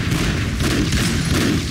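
Rapid laser gun fire in the side-scrolling action game Broforce, a dense continuous burst of crackling, booming shots that stays loud and steady throughout with no talking.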